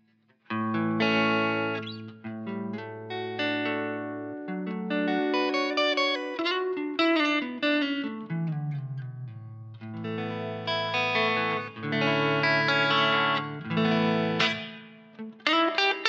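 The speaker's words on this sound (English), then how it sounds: "So straight out the bat, you've got a really kind of nice sounding reverb." Fender Stratocaster guitar chords and single notes played through the PSP Pianoverb reverb plugin with a long decay, each note ringing out and blurring into a lush, sustained wash that fills the gaps between phrases.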